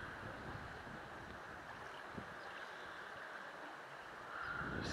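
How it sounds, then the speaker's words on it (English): Steady wind rushes across an open desert campsite along the Gila River in Arizona, a faint continuous roar with gusty rumble that swells slightly toward the end. "Wind's dying down, so nice to have the dust settle."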